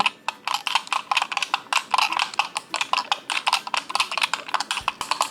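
Rapid, crisp clicking of small plastic buttons pressed in quick irregular bursts, close up and continuous.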